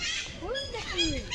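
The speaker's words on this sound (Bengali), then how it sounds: "কত পাখি ডাকছে দেখছিস," Birds at a zoo give short squawking, honking calls, close and fairly loud, with people talking nearby.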